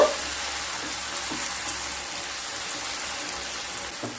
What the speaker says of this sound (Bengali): সাথে দিয়ে দেব মশলা ধোয়া জল দিয়ে আবারও ভালোভাবে কষিয়ে নেব।